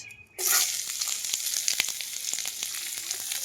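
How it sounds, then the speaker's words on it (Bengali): Dried chili, curry leaves and onion hit hot oil in a pan on a clay stove, bursting into a loud continuous sizzle after a brief quiet start, with scattered pops and crackles throughout. "দিমু একটা শুকনা লঙ্কা দিয়া দিমু কারি পাতা দিমু খাটিয়া রাখা পেঁয়াজ"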